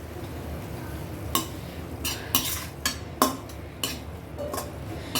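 A spoon stirs cooked toor dal into murungai keerai (drumstick leaves) poriyal in a pan, giving several sharp, irregular scraping clacks over a faint background hiss. Nobody speaks.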